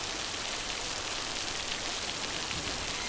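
Steady, dense rain pours down without a break, a loud, even hiss of drops striking surfaces close by, with no voices over it.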